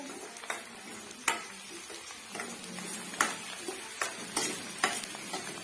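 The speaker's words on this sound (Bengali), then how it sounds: "এই সুজিটা ঘিয়ের মধ্যে ছেড়ে দিলাম, এবার নাড়ছি দেখো ভালো করে" Semolina stirred in hot ghee in a pan, a steady low frying hiss punctuated by sharp, irregular clicks and scrapes of the spoon against the pan, close up with no voices.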